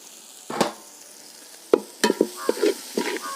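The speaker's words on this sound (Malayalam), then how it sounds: "നന്നായിട്ടൊന്ന് മറിച്ച് കൊടുക്കാം." A spoon stirs chicken masala spices and cumin seeds frying in oil in a pan. Several scrapes and clatters come close up over a faint sizzle, with no talking.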